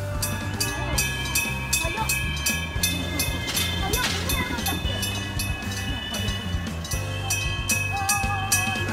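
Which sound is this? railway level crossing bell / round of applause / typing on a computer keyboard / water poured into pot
railway level crossing bell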